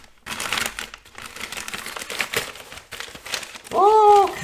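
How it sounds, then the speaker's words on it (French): Paper parcel from a French publisher being torn open, crisp crinkling and rustling of wrapping paper in bursts over a few seconds, close by, ending with a brief voiced sound. "On ouvre le premier paquet."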